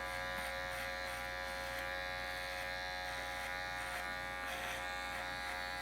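Hair clippers fitted with a number 1 guard buzz steadily while cutting a men's fade, a close, constant electric hum with faint fluctuations as the blades pass through hair.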